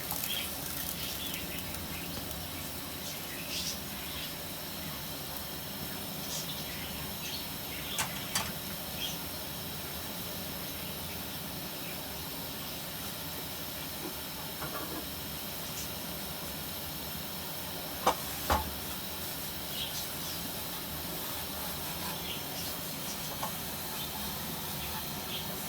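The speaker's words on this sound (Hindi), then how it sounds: "उबाल आ गया है, हम इसको 10 मिनट के लिए आलूओं को गलने के लिए रख देते हैं।" Water for aloo pulao comes to a boil with potatoes in the pot, giving a steady, soft bubbling hiss throughout with a few faint clinks now and then.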